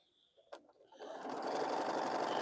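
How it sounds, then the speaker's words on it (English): A sewing machine stitching quilt pieces starts with a few clicks and a short whir, then runs steadily and loudly at full speed, a continuous close mechanical hum with no talk. "for what I'm sewing here, I'm calling it friendship chisel"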